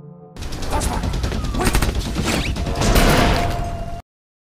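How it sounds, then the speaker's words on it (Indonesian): Rapid gunfire in a zombie film scene: loud, dense bursts of overlapping shots that continue steadily for about four seconds, with a few whooshing sounds mixed in. "tak sengaja menembak dirinya sendiri"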